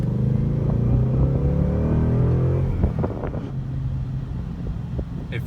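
A 2018 Ford Mustang GT V8 drives with a loud, close engine drone, its pitch rising under acceleration, then easing after a shift into a lower rumble mixed with wind noise.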